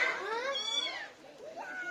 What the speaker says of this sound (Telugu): ఇది క్యాట్ రెగ్యులర్ గా మీరు అంతా చూసేదే.